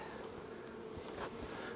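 Honey bees buzz at a hive, bringing in light-colored pollen. The droning hum is faint and continuous, with a few brief louder buzzes as individual bees pass close.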